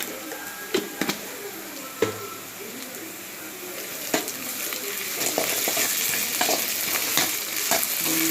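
Onions fry with ginger garlic paste in a pan as the mixture is stirred, giving a close, steady sizzle broken by sharp clicks and scrapes of the spoon against the pan, and the frying grows louder toward the end.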